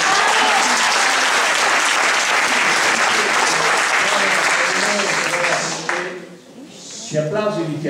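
Loud, dense applause from an audience at an environmental commission public meeting fills most of the stretch, then fades out near the end as a voice begins speaking.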